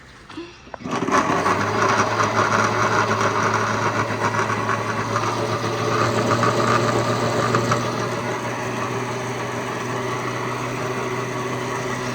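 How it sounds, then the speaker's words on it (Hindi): An electric mixer grinder whirs as it purees ginger, garlic and onion with a little added water in a village kitchen. It starts abruptly and then runs as a loud, steady, continuous drone, close by and with no voices. "ये एकदम जो है ना इसको ग्राइंड करते हैं।"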